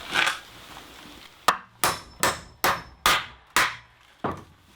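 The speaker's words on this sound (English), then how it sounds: "I'm just going to hammer this side in." Nails hammered into a wooden loft ladder for a tiny house, about seven sharp ringing blows at a steady pace after an opening scrape, close and loud with short decays and no talking.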